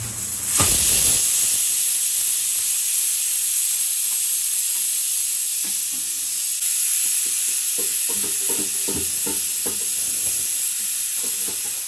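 A pressure cooker steadily vents hissing steam while Peshawari beef cooks, a loud continuous hiss with faint clinks and rattles in the background and no talking.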